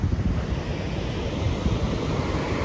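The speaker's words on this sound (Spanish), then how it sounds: "ahí se oye bien feo, amigos, como que el arroyo de los Nogales tiene muchísima agua" Floodwater rushing through a swollen arroyo in Nogales during ongoing rain, a steady, loud, low roar of churning water with wind buffeting the microphone and no voices.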